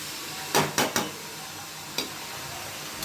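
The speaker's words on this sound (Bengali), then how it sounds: "রসুন আর চর্বিটা দেওয়ার পরে ভালো করে কষিয়ে নিতে হবে" Mutton sautés with garlic and fat in a pan, giving a soft hiss under a few sharp scraping and clattering stir strokes, first three close together and then one more after a pause.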